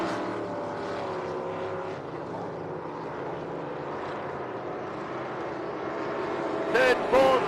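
Six-litre category runabout speedboats race at a Melbourne speed boat club meet, a sustained engine roar droning from a distance, overlaid with a commentator talking throughout.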